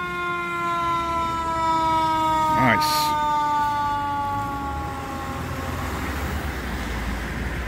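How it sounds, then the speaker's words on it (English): Montreal fire truck siren on a city street: a loud steady tone gradually falling in pitch as it moves away, a brief air-horn-like blast in the middle, then road noise; one short spoken remark over it. "Oh, stop using the siren."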